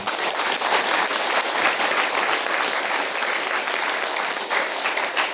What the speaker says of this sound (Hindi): इसके स्वागत में ताली मारो